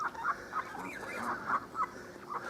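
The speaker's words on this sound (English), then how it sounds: "Geese, ducks, swans." Geese, ducks and swans honk and call in a rapid, repeating series nearby, a steady chatter of bird voices with no speech, at a lakeside.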